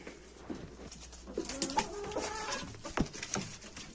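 Chickens clucking and cooing close by, several birds making short overlapping calls over a low background hum.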